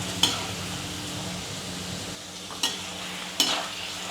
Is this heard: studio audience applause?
no